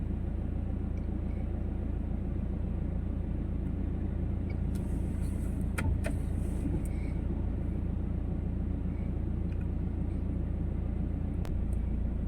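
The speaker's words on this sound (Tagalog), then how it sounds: "Nagta-traffic dun mga ka-driver, oh." Road traffic rumbles steadily throughout, a continuous low drone of passing cars with a faint higher hiss and a couple of brief clicks, heard from inside or near a vehicle with no speech.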